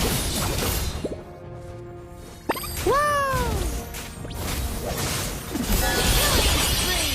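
A tower crumbling in the mobile game Mobile Legends, a sharp shattering crash followed by falling, sweeping game effects, loud and alone over busy in-game noise.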